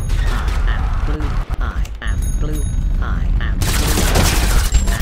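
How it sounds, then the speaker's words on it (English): Gunfire in Totally Accurate Battlegrounds comes as scattered loud shots and bursts amid rumbling engine and game noise, with shouted voices over the top. "Who the fuck is shooting?"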